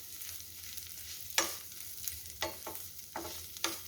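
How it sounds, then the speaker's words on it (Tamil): Flattened rice (aval) fries in ghee in a pan for payasam, a steady crackling sizzle broken by several sharp scraping stirs of the spoon, close and fairly quiet. "இதை நல்லா வந்து கிறிஸ்பியாக நம்ம வந்து ஃப்ரை பண்ணி எடுக்கலாம்"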